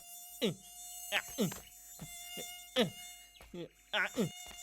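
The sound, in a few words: mosquito buzzing in a cartoon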